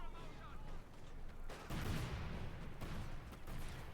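Rumbling explosions and bursts of gunfire from a Company of Heroes 2 battle, with heavy blasts around the middle and repeated impacts under a dense, continuous wartime din.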